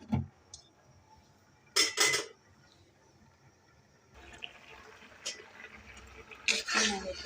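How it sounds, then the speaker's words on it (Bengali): Chicken and potatoes stirred in a cooking pot for biryani, a utensil clanking and scraping against the metal in two short, close bursts over a quiet background. "নেড়ে দিচ্ছি"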